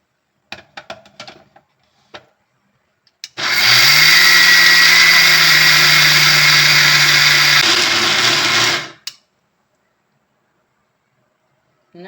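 Short clicks and knocks lead into an electric mixer grinder whirring loudly and evenly as it grinds rice for idli batter, its pitch dropping slightly midway before it winds down and stops, followed by silence.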